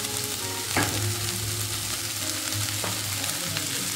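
Drumstick flowers and tomatoes fry in a pan, a steady close sizzle broken by a couple of sharp scrapes as they are stirred.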